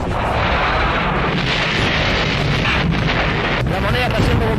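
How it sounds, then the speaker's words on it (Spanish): Tanks fire and shells rain down during the bombardment of La Moneda palace, heard as a dense, continuous roar of blasts and rumble with heavy wind buffeting, and a voice speaking over it. "los tanques están disparando con sus bombas"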